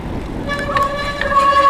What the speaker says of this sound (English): can you hear the wet disc brakes? Usually it's silent.